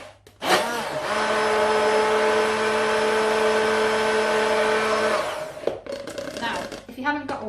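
A kitchen blender whizzing oats and water into oat milk, a loud steady high whine running about four and a half seconds before cutting off, followed by a voice talking.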